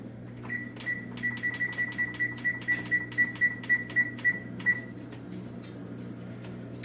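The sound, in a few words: oven being switched on, control panel beeps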